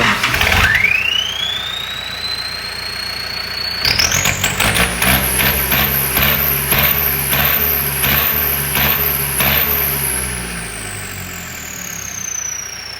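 A Yanmar EF72 tractor engine fitted with a turbo runs loud and close, its turbo whistle rising steadily to a high whine, then surging and dipping with repeated revs before slowly winding down.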